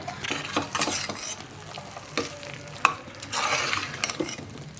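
Mushrooms are stirred into a frying gravy, a continuous sizzle with rhythmic scraping and stirring strokes and an occasional sharp tap of the spoon, close and fairly loud, with no talk.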